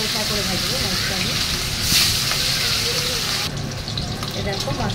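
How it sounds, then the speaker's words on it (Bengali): Fish pieces marinated in salt and turmeric fry gently in hot oil, a dense continuous sizzle and crackle that swells briefly midway, with a voice talking over it. "বেশি কড়া করে ভাজি বলবে না, হালকা করে ভাজবো মাছটা।"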